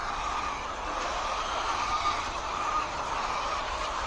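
Laying hens crowded in a layer poultry farm, a dense, steady chorus of clucking and squawking that fills the space without pause.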